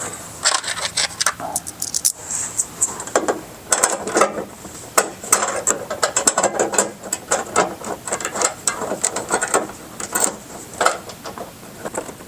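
Screws driven by a ratchet into Rokblokz mud flaps on a 2020 or later Chevrolet Silverado 2500/3500 HD fender, with close, busy rapid clicking in repeated bursts over most of the stretch and no talk.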